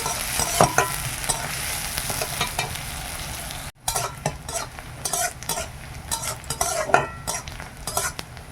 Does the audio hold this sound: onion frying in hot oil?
yes